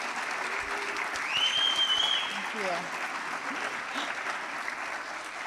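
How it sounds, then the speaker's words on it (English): Audience at a college fall convocation breaks into sustained applause that fills the room at steady loudness, with a voice speaking briefly over the clapping. "can I please just hear a round of applause for Marwin for all he did?"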